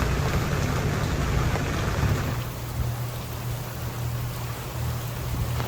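Steady rain pours down outside a sailboat in humid foul weather, a dense continuous hiss with a low drumming rumble that eases slightly partway through, with no voices.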